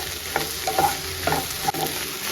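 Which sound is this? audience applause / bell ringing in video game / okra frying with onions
okra frying with onions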